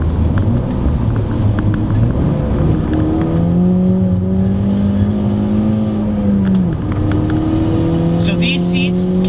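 A newly bought car drives along with its engine revving and droning steadily from inside the cabin, pitch rising and falling through gear changes, loud and continuous.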